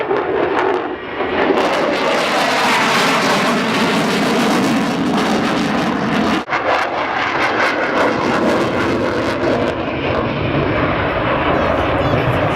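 A military jet roars past low and fast at the Duxford Autumn Airshow, a loud sustained engine rush that swells and holds for several seconds while a commentator talks over it.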